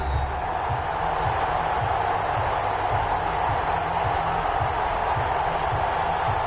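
A stadium crowd at a Brooklyn Barons versus Columbus Aviators football game makes a steady, roaring wash of cheering and murmur that holds at an even level throughout.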